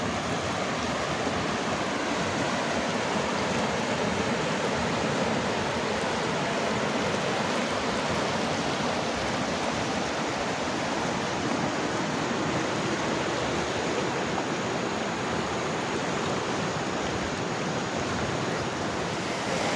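River water pouring out to meet the sea at the Kalutara river mouth in Sri Lanka, a dense, steady broadband rush of surf and flowing water that stays loud and unbroken throughout, with no voices.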